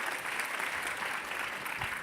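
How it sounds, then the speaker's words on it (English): Steady audience applause fills a conference panel hall at MCON2017, a dense continuous clapping wash that holds evenly for about two seconds with no voices on top. "let's give a big round of applause for our next two speakers"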